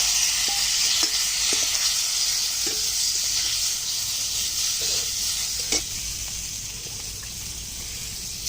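Mango pieces hit hot mustard-seeded oil in a pan over a clay stove, giving a loud, steady sizzle that hisses on without pause, with faint scattered clicks and pops from the pan.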